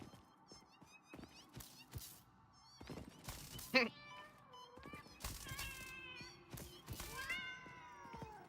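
Cats meowing in a factory-building video game, repeated overlapping wavering meows among sharp thuds and clattering hits, loud and near, with a voice briefly in the mix.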